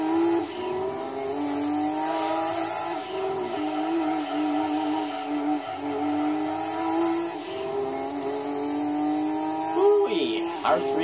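A Nissan R390 race car in the Gran Turismo 2 endurance race, its engine a sustained high, buzzing drone with shifting pitch and brief gear changes, loud and continuous throughout.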